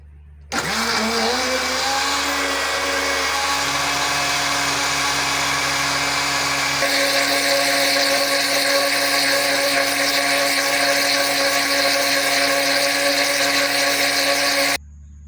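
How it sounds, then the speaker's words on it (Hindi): An electric grinder blends yogurt chutney ingredients with a loud, steady motor whine that starts abruptly, runs continuously for about fourteen seconds with a slight shift in pitch midway, then cuts off. "अब इनको ग्राइंड कर लेंगे।"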